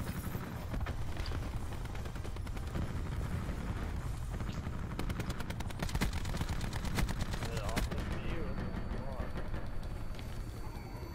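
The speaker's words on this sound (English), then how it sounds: "Cluster grenade going out." A cluster grenade goes off in Call of Duty Black Ops 4 amid dense gunfire, with a rapid string of sharp blasts and cracks over constant noisy battle sound.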